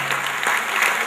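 An audience claps at a Hindi poetry recital (kavi sammelan), a dense, steady applause heard up close that continues throughout.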